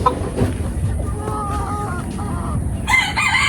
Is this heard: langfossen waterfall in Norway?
no